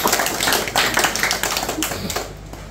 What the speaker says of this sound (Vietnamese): xin mọi người chúng ta vỗ một tràng pháo tay.